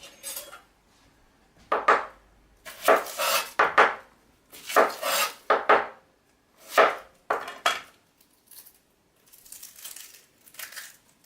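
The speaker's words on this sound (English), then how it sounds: "So, first we're gonna do is cut some onions." Knife chopping onions on a board for homemade marinara, a series of crisp irregular clacks and scraping strokes in bursts, close and fairly loud, with short pauses between runs.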